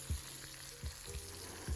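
Lamb shoulder sizzles in oil in a pan, a constant frying hiss with a few soft low bumps as the meat shifts or is turned.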